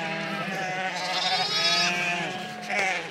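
Cheviot ewes and lambs bleating on a hillside, several overlapping wavering calls close by with higher lamb cries among them, no talking.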